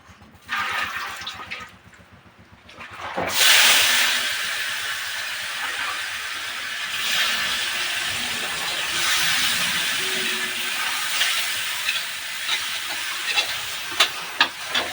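Tomatoes frying lightly in a pan at a roadside Bengali pice hotel kitchen: after a brief quieter start, a loud, steady broadband hiss of sizzling oil runs on, with no talk.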